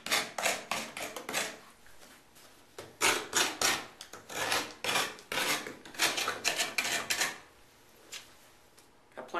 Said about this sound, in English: Let's take the original Skate Squeegee and apply it to the blade. Let's go front to back.